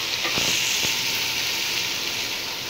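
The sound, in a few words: masala with onions and spices frying in oil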